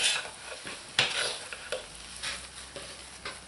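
A pot of old-fashioned lard and lye soap is stirred, giving soft repeated scraping swishes and light knocks against the pot, close and moderately quiet over a faint steady background hiss.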